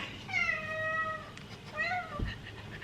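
A house cat gives two drawn-out meows close by in a quiet kitchen, each one rising and then falling, with faint handling noise between them.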